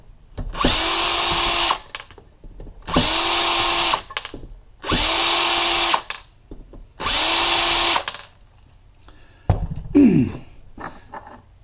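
Power drill backing screws out of an electric meter test box, four loud, evenly spaced whirring bursts of about a second and a half each, followed by small clinks and handling noises.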